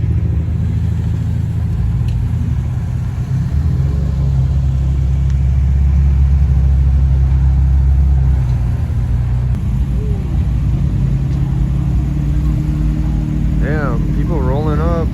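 Cars roll up to a Honda cars and coffee meet outdoors, engines rumbling steadily nearby with a brief rising rev near the end, while people talk over the noise.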